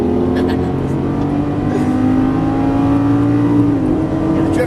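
A Lamborghini Gallardo on a track: a loud, steady, droning engine note rising under throttle, heard close from inside the car.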